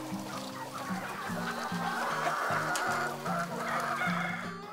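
Sentul free-range chickens on a farm, a flock clucking continuously in overlapping bursts, close and steady, with occasional louder calls above the murmur.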